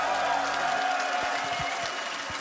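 Crowd in an esports arena at The International 2023 Dota 2 playoffs cheering and applauding, a dense steady roar of voices and clapping that fades slightly toward the end.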